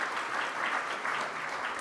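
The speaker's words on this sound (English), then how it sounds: "let's thank the volunteers who came a little bit early to make this meeting run smoothly. Give them a round of applause." Steady applause from a meeting audience thanking volunteers, a dense, even wash of clapping filling the whole moment without talk.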